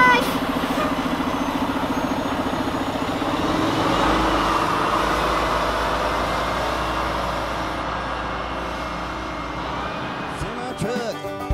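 A semi-truck's diesel engine rumbles in a low, steady idle that rises in volume partway through, heard under a voice and other layered sound.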